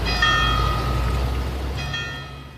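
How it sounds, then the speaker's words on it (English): Church bells in Graz, Austria, ringing out loud and resonant with a rich sustained tone, one fresh strike near the end layered over the fading hum of the earlier peal. "Church bells ring out in Graz, Austria."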